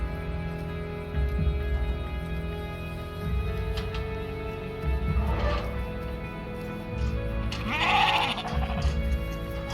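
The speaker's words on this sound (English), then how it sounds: "we got our sheep here on our property, along with two other sheep of our buddies" Sheep on a rural property bleat several times, with a few separate calls spread over about ten seconds. Steady background noise runs underneath, and no one talks.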